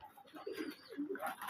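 Pigeons cooing in a loft, a few soft, low, rolling coos close by in a quiet space.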